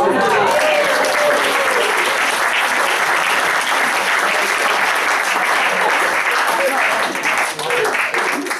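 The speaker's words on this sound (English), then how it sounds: "I think a round of applause" A round of applause rises from the audience at a speech, loud and continuous clapping that holds steady throughout with only a brief dip near the end.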